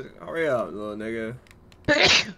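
One loud, abrupt sneeze bursts out right after a man's spoken line, close to the mic.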